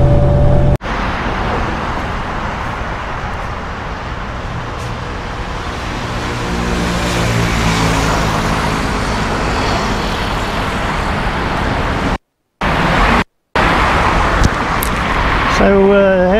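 Steady, continuous rumble of a BRT bus riding through Bangkok traffic beside a canal, with engine drone and road noise throughout, briefly cut out twice near the end.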